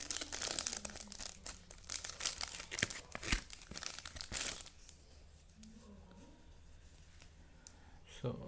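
Plastic packaging of a Zapcase phone cover for a Redmi 4 being handled, with close, busy crinkling and tearing for the first half, then quieter faint rustles.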